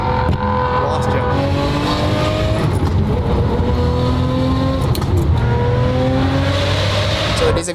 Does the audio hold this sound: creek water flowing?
no